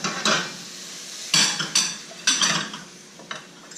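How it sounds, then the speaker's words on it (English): Food is scraped and lifted out of a heavy pan with utensils. Several sharp metallic clanks and scrapes sound close over a faint ongoing sizzle. "let's go ahead and pull this out of the pan"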